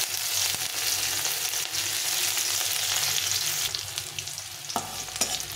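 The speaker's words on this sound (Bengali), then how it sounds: "এটাকে একটু ভেজে নিয়ে, রসুন আর কাঁচা লঙ্কা কালো জিরাটাকে একটু ভেজে নিয়ে" Chopped garlic, green chilli and black cumin fry in oil, a close, dense sizzle that drops slightly partway through, with occasional spatula scrapes and taps toward the end and no speech.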